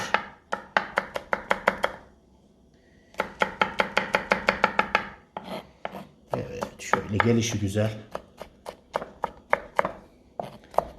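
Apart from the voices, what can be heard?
knife chopping garlic on a cutting board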